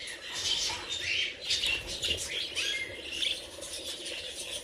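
Pet budgies in a breeding setup chirp busily in quick bright bursts, several birds overlapping in a lively, fairly close chatter.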